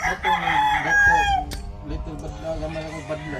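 A bullstag gamefowl rooster crows nearby, one loud strained call lasting about a second and a half, while people talk quietly in the background and other fowl cluck softly.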